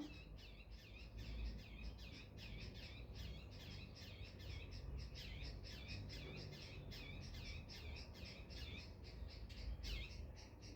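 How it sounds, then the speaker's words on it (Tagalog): A mother bird near a nest at a house gives rapid repeated harsh squawking calls, steady and fairly close, over a low background rumble. "Umiiyak yung nanay niya, guys."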